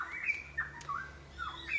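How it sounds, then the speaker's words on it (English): A bird sings outdoors in short, high chirping phrases repeated across the moment, fairly faint against a quiet background. "And there's a bird singing at this moment."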